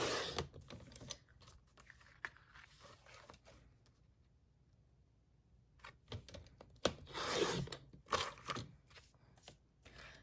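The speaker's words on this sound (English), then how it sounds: "So at first I'm going to cut 2-inch sections." Cardstock is sliced into 2-inch strips on a paper trimmer, with close, crisp scraping and clicking runs that pause mid-clip, then return louder with rustling handling.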